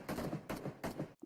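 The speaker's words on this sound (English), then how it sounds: "We are hearing a couple of gunshots going around" Gunfire during a PUBG Mobile esports match: several bursts of shots at a steady level, with a short gap near the end before one more report.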